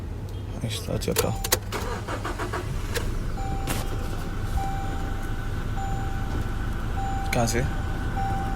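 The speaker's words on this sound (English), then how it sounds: "And start your car." Diesel 2015 Toyota Hilux cranks and starts with a short burst of clicks and a catch, then idles steadily and loudly up close, with beeping chimes and a voice speaking briefly.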